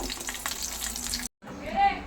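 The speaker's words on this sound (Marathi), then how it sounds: "हे लसूण टाकूया लसूण थोडंसं परतून घेतल्यानंतर" Garlic sautéing in a pan for a homemade soup sizzles and crackles steadily up close, cuts out for a moment, then resumes with a brief rising tonal squeak.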